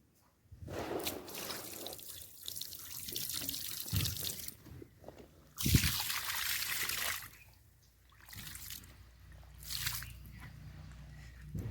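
Cold water splashes and gushes in bursts, pouring into a full bucket up close, with pauses and clattering in between.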